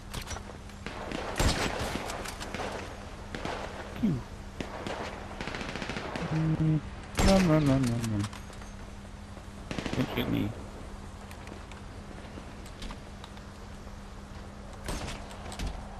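Gunfire from a weapon in GTA Online, several separate bursts and sharp shots scattered across the span over steady game background noise, with a few louder cracks in the middle.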